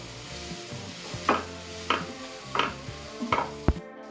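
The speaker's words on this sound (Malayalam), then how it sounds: "അതും കൂടി ഇട്ട് ഒന്ന് വഴറ്റി കൊടുക്കുക" Chopped vegetables sautéing in a pan for white sauce macaroni, with a steady low sizzle broken by four or five scraping stirs of a spoon and a sharp knock on the pan near the end.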